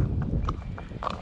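A slow horse's hooves clip-clop at an unhurried pace on a trail ride, several steady close thuds under a low, constant outdoor rumble.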